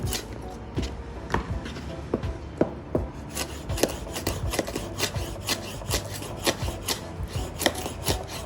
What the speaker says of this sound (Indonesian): Setelah daun bawang kita bisa pakai cabai sedikit. Cabainya juga mau dipotong panjang gini.